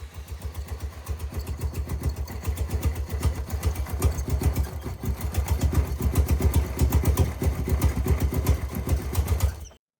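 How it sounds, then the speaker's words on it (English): A Mazda RX-7 FD engine runs rough with a steady, uneven putt-putt pulse, loud and close for about ten seconds before cutting off abruptly. "the best we could get it to run sounded like a putt-putt engine"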